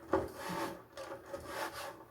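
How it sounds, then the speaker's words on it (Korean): Tangerine peels nearly dry in a hot pan with ginger, giving a faint, close, dry crackling and rustling as they are stirred, with no talk. "이제 어느 정도 수분이 말라서 이렇게 바지락 소리가 납니다"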